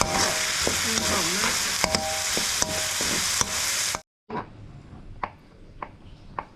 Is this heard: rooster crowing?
no